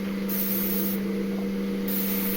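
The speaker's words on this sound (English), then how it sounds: "Quick spray." Case lube is sprayed onto cartridge cases from an aerosol can in three short, close hissing bursts, each one crisp and loud.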